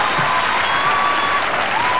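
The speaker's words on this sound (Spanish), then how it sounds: "Aplausos fuertes para nuestros videos nacionales." Studio audience at a 1993 Chilean television home-video show applauding loudly, a dense, continuous roar of clapping with faint whistles riding over it, steady from start to end.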